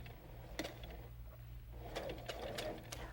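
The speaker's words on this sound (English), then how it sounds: "I take a few stitches" A sewing machine runs in short bursts of stitching while a zipper is sewn along a seam allowance, its quiet motor whirring between pauses, faint and close.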